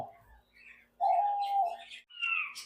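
A male diamond dove at a home dove farm calls with soft, drawn-out coos and brief higher chirps, fairly faint and close, with no talk over it.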